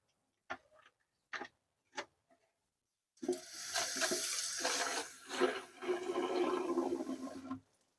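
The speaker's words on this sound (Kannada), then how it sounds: "ಈಗ ಈ ಬಾಟ್ಲಿಗೆ ಒಂದು 3/4 ಭಾಗದಷ್ಟು ನೀರನ್ನು ಫಿಲ್ ಮಾಡೋಣಂತೆ ಬನ್ನಿ" Water pours into a plastic bottle, filling it about three quarters, preceded by a few sharp handling clicks; the steady close gurgling stream runs for several seconds, rising slightly in pitch before stopping.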